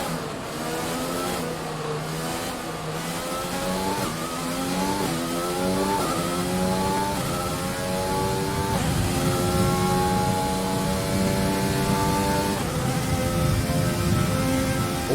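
A Formula racing car engine in a driving video game played on a controller, revving high and shifting through gears in rising sweeps, loud and continuous throughout with no break in the engine tone.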